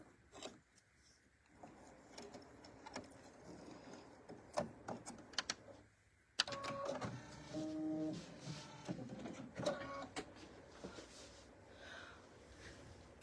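Sewing machine stitching a long strip of fabric onto a small winter-themed mini tote, heard as irregular clicks and short mechanical runs with a brief motor whine, fairly close and quiet, with no talking.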